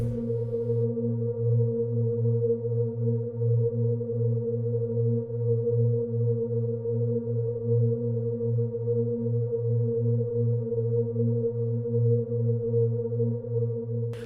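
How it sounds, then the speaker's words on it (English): Static synth pad holding one sustained note for tension in an Afrobeats beat, a steady unbroken drone with a low pulsing undertone, alone and even in level throughout. "I added this pad sound just to also create tension,"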